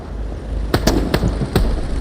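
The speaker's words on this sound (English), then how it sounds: "got some gunfire going on." Sharp broadband cracks of gunfire in the WWII shooter Hell Let Loose, five or six shots spaced irregularly over a steady background rumble, moderately close and loud, with no talking.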